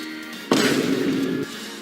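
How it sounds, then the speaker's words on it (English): A Rail Battler unit in The Battle Bricks video game fires its blast, a single sudden burst that rings loud for about a second with a bright metallic tone, then cuts off abruptly. "Rail Battler can still fire even if the targeted enemy perishes, and the blast has infinite range."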